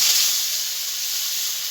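Cut, washed potatoes dropped into hot oil left from frying silver carp, giving a bright, steady hiss and sizzle that starts strong and settles to an even, close-up crackle.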